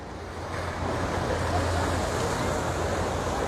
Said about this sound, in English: Waves are still really calm, very surfable.